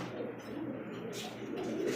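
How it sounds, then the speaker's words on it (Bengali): Pigeons coo softly and steadily at a pigeon farm, a low continuous murmur of several birds with faint chirps over a quiet background. "আসেন আমরা এক এক করে কবুতর দেখি"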